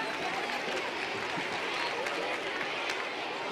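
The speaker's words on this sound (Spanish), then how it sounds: "Escuche más fuerte ese aplauso" An audience at a large school choir event bursts into applause, a dense, steady wash of clapping and crowd noise that holds evenly throughout.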